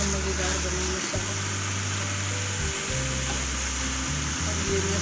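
Masala sizzles and fries in a pan as ridge gourd and onion go in. The hiss is steady and close, with a low hum running underneath.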